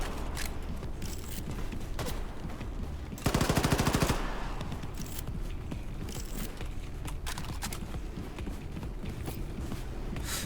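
Automatic gunfire in Wolfenstein II: The New Colossus, with a rapid burst of about a second of loud, evenly spaced shots standing out over a constant busy game din.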